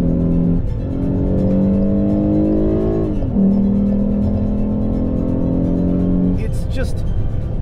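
A 2013 Lexus GS 350 with its naturally aspirated engine revving up, a loud near harmonic drone climbing steadily in pitch, dipping briefly and climbing again, ending in a short high whine at the close.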